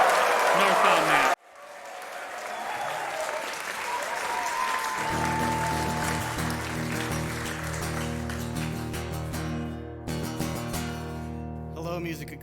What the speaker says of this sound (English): we need a big round of applause for our good friend, Northbound Matt